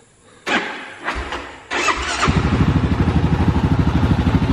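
A new Kawasaki KLR 650 motorcycle engine cranks over a few times, catches, and settles into a loud, steady rhythmic idle close by.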